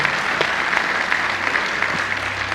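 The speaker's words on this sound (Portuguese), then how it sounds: "Bata palmas para Jesus" Congregation clapping in praise at a church service led by a pastor, a dense sustained roar of hands from a large gathering, loud and even with a low hum beneath.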